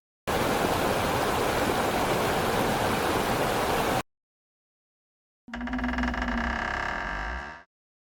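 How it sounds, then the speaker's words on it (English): River emitter and creek loops for a game level: about four seconds of steady, dense rushing water, a short silence, then a shorter, quieter burbling creek stretch with more tonal, trickling detail. "Here's a river emitter and some various creeks that will randomly play."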